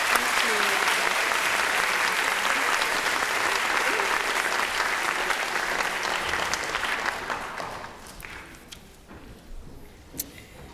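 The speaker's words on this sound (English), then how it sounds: "Give them a round of applause." Sustained audience applause fills a high school senior awards ceremony, loud and dense for about seven seconds before thinning out into scattered claps and fading.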